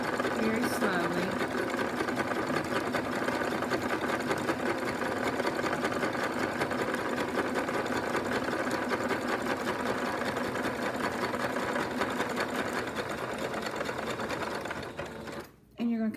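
A sewing machine zigzag-stitching coils of rope together runs continuously at a steady, fast mechanical whir, close and loud, before slowing and stopping near the end, with a person talking over it.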